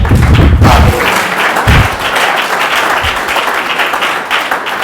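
Loud, dense applause from a church congregation at a French-language prophetic conference, sustained clapping throughout with a few heavy thumps near the start and voices mixed into the crowd noise.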